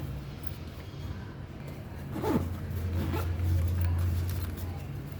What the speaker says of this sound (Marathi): आता हे पण झिप लावून दाखवते